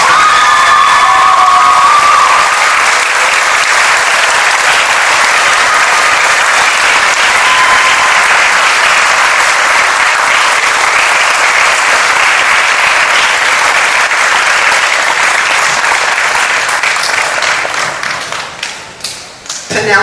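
A school concert audience applauds and cheers loudly and steadily for an orchestra student receiving a director's award, the clapping dense and sustained for about seventeen seconds before thinning out near the end.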